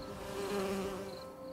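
Steady, close insect buzzing with a low droning hum, continuous for the whole stretch, like bees hovering nearby.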